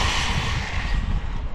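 A 4Tec RC car converted to a brushless motor, driven on light throttle: a steady, busy whine with a low rumble underneath, continuous and fairly loud, no voices.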